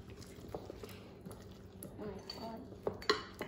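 A spoon scrapes and clinks against a bowl while Christmas baking batter is mixed, with soft irregular stirring taps that build to a few sharper clinks near the end. A low voice murmurs in the background.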